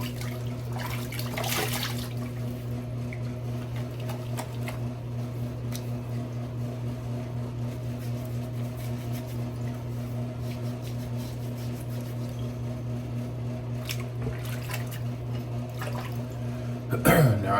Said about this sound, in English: Just rinse the face here and we'll get the post shave going.